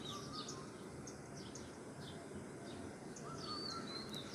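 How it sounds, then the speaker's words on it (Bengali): A koel calling at dawn on a quiet roadside with no traffic yet, its repeated whistled notes rising over fainter chirps from other birds, moderately distant and steady throughout, no talking. "কোকিল ডাকছে।"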